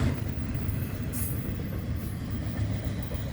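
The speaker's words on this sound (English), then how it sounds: "that's tonight's FEC train 107" Florida East Coast Railway train 107 passing close by at night, a loud continuous rumble of wheels on rails with rhythmic clatter and brief high squeals, steady throughout with no voices.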